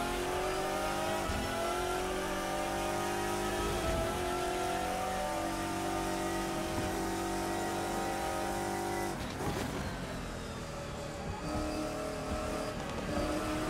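GT1 race car engine at Donington Park in Assetto Corsa revving hard, its tone climbing and dropping through blipped downshifts, with a sharp change near the end, loud, continuous and without voices.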